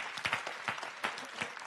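Studio audience clapping on an Armenian evening entertainment show, a short burst of scattered, moderately loud claps in uneven bursts.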